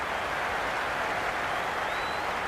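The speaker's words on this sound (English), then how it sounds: "There's a buzz, a real buzz coming from the stands." Stadium crowd roaring and applauding at an England versus New Zealand cricket match in Cricket 26, a dense, steady wash of noise from the stands that holds at a constant loud level throughout.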